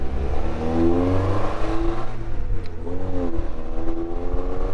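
A Triumph TR2 sports car drives along with its overdrive engaged, its engine giving a loud, smooth, steady hum whose pitch rises and shifts slightly as it pulls.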